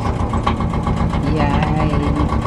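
A narrowboat engine runs with a steady, close, chugging mechanical rumble just after an ignition repair, holding an even pace throughout.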